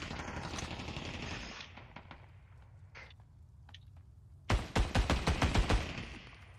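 Bursts of automatic gunfire from the battle royale video game Ring of Elysium, with scattered single shots early on and then a loud, rapid volley of close shots toward the end.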